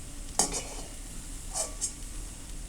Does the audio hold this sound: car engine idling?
no